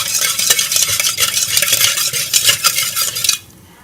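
Spoon stirring malabi (mahalabia) pudding mixture in a pot before cooking, a steady, busy scraping and clinking for over three seconds, then stopping abruptly.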